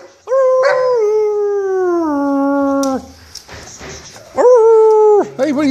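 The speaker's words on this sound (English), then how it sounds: "Can you do some howling?" A dog at home in a seaside house in Las Terrenas howls loudly and close by, one long wavering howl that slides down in pitch, a short whimpering pause, then a second shorter howl.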